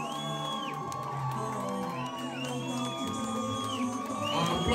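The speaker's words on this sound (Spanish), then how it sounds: "¡Aplausos fuertes para los novios por ahí que se escuchan fuertes para ellos!" Wedding guests cheer and whoop for the newlyweds as a crowd at a wedding reception, with sustained loud shouting and festive noise over background music throughout.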